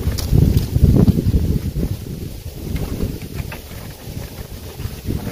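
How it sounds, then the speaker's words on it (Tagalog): Strong wind buffets the microphone in rumbling gusts, loudest near the start and easing slightly, with no voices. "Biglang lumakas yung hangin ah."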